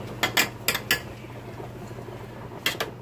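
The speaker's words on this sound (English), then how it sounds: "this is a real kitchen because you hear dishes being washed" Dishes being washed in a home kitchen, with a few sharp clinks of cutlery and plates in quick clusters at the start and near the end, a low steady hum running underneath, and no talking.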